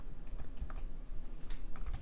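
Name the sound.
computer keyboard arrow keys being pressed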